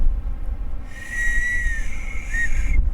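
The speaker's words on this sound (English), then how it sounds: "A very shiny anodized whistle. That was just a light little blow." A shiny anodized survival whistle gives a light blow, a thin, steady high tone lasting about two seconds with a short second chirp at the end, over low background rumble.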